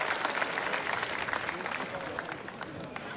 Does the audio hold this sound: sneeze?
no